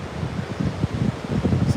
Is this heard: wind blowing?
yes